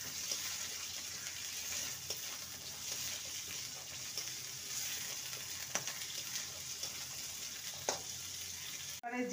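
A handful of green peas frying in a pan for a semolina and potato breakfast gives a steady, soft sizzle, broken by a few light scrapes and taps of stirring against the pan.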